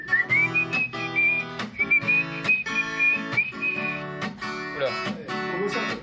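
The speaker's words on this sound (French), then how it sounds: "Allez, solo sifflé!" A whistled solo carries over a full band backing on a live TV show, the bright whistle line holding long wavering notes before fading near the end.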